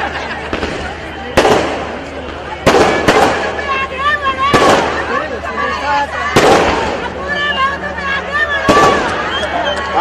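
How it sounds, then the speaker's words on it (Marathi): Firecrackers go off in repeated sharp bangs, several loud cracks spaced a second or two apart, over a background of crowd noise and voices. "आपण विजयाचे फटाके समजू या"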